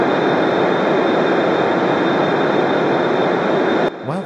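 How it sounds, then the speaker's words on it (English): A Su-33 jet in a Roblox game roars at full power accelerating down an aircraft carrier deck, a loud steady broadband engine rush with a high whine that cuts off abruptly near the end. "I'm in a Su-33 now. I don't know how to take off on these types of carrier, so I just accelerate and pray"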